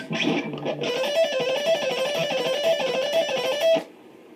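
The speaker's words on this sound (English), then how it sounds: "That lick is a good demonstration of outside picking." A fast, repeating electric guitar lick played cleanly and evenly with outside picking for about three seconds, then stopping abruptly, with no talking.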